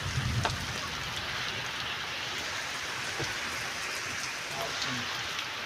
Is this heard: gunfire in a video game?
no